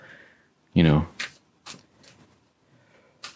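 Tarot cards being shuffled by hand, a loud riffle burst followed by several short soft flicks and taps, close and quiet in a still room.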